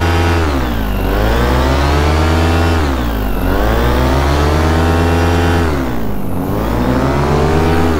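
An Atom 80 engine runs loud and close at about half throttle, a continuous buzzing drone whose pitch sags and recovers in slow, repeated waves.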